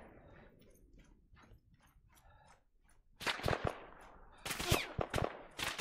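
Bursts of gunfire from Arma 3 combat, sharp loud shots and rapid volleys after a few seconds of quieter clicking and rustling.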